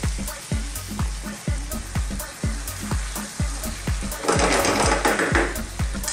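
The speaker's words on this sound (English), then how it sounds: "Now I'm going to lower the heat to a simmer." Garlic tomato chicken sauce bubbles and sizzles in a pan, a steady low simmer with a regular, rhythmic popping pulse and a brief louder hiss near the end.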